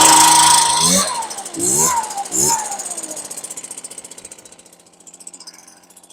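A STIHL BR450 backpack leaf blower engine on half choke catches with loud sputtering bursts, then settles into a steady two-stroke idle that fades slightly, close up, with a brief spoken word near the start.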